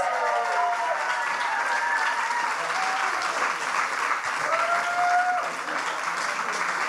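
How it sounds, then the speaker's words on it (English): Sustained audience applause fills a science slam hall as the second prize is announced, a dense, steady wash of many hands clapping at close range, with a few faint voices and tonal sounds threading through. "The 2nd prize goes to Katrin. Applause."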